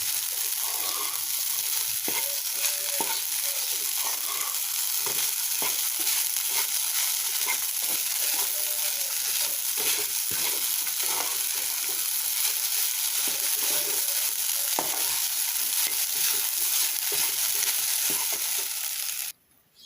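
Sabudana being stirred up and down in a pan as it steams on a home stove, a steady soft sizzle with scraping strokes running continuously at close range until it cuts off at the end.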